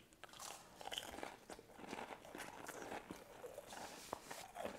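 Candied bacon crackers are bitten and crunched close up, giving repeated crisp crunches and chewing over several seconds, quiet overall with no talk.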